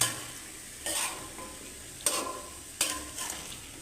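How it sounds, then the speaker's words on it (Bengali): Vegetables and lentils stir-fried with spices in a pan: a steady soft sizzle broken by a few scraping stirring strokes, close and fairly quiet, with no voices. "সব দেওয়ার পরে প্রথমত সবজিগুলো ডাল সহকারে একটু কষিয়ে নিলাম।"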